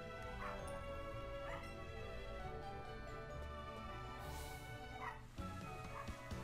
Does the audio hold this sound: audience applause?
no